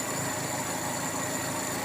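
A small car engine idles steadily while its carburetor is adjusted, likely a Daihatsu Taruna with a Ferosa or Classy carburetor, giving a continuous close rumble with a faint vibration and no voices.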